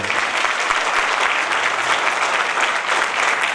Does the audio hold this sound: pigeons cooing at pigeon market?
no